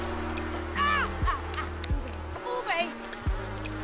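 Bees buzz around crops in the video game Cottage Living, a steady droning hum that shifts pitch and stops in places, with high chirpy game sounds layered on top.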